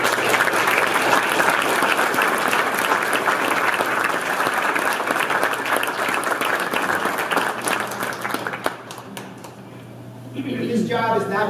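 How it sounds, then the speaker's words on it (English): An audience claps for veterans standing to be recognized at a live-streamed event: dense, steady applause that keeps going for several seconds, thins out near the end, and gives way to a voice speaking. "let's give them a round of applause"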